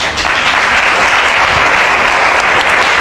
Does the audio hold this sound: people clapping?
yes